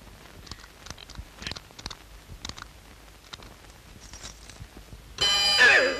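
An alarm clock rings loudly for the last second of the clip, cutting in after quiet tapping and shuffling sounds.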